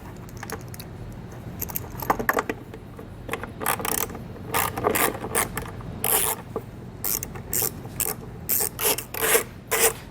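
A ratchet works loose two 7mm taillight bolts on a 2009 GMC Acadia, giving repeated quick clicking bursts in short spurts with brief pauses, close and fairly quiet, no voices.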